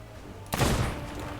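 Gunfire from skeleton enemies in a video game, a sudden burst of noisy shots erupting midway and sustaining as a rumbling volley, with no talk.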